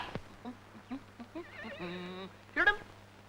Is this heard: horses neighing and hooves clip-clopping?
yes